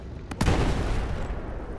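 An explosion set off in Battlefield 4, two sharp cracks followed by a broad rumbling blast that lingers at moderate loudness.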